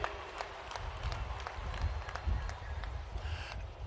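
Pilgrims clapping at an outdoor celebration of the Uganda Martyrs at Namugongo, a faint, steady spatter of crowd applause with scattered sharper claps and a low murmuring background.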